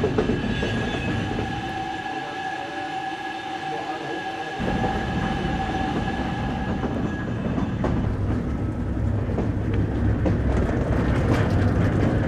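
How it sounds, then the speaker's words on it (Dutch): A water-ballast funicular car descends its track on a steel cable, rumbling steadily with a low mechanical drone and faint clicking and squeaks as it moves. "voordat hij langs een staalkabel naar beneden rijdt en de andere koets omhoog trekt"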